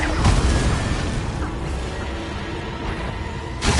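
Confringo fire-blast spell in Hogwarts Legacy erupts as a broad, rumbling boom that starts loud and rolls on as a sustained roar for several seconds, with a second burst near the end.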